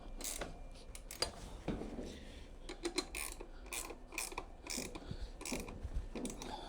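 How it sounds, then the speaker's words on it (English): A 15mm wrench ratchets and clicks while tightening a tire rim on an e-trike, quiet and close, in a busy run of small metallic clicks and scrapes. "I will get a 15mm wrench here and tighten up this tire rim"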